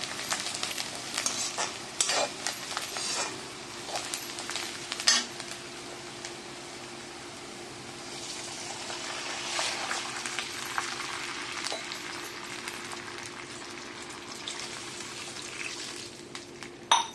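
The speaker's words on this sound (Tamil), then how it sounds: "நல்லா கொஞ்சம் வதங்கட்டும்" Steady sizzling of aval upma ingredients sautéing in a frying pan, with occasional clinks and scrapes of a utensil stirring.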